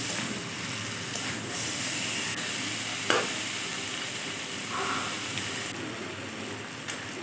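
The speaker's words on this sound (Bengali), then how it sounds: "এবার এটা ভালোভাবে ভেজে নিতে হবে" Raw jackfruit fries with spices in a hot pan, a continuous crackling sizzle with a soft hiss and an occasional scrape of stirring, steady and close throughout.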